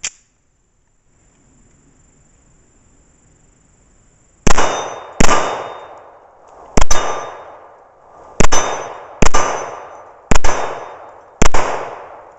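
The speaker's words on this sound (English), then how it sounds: "230 grains at 15 yards will definitely bounce that plate around" A Kimber full-size 1911 firing 230-grain .45 ACP rounds at a heavy steel plate 15 yards away. Seven sharp metallic clangs ring out at irregular intervals after a quiet pause, each one ringing briefly before it fades.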